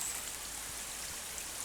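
A small river, the River Willow Way, trickles through a shaded forest at lower Eas Mor on Kildonan, running low in summer as a steady, soft, continuous wash of water with no voices.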